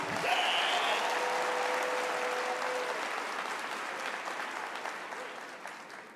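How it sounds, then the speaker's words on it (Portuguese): Sustained applause from a congregation at a Portuguese-language sermon, dense steady clapping filling the room and slowly tapering off toward the end. "Pode aplaudir."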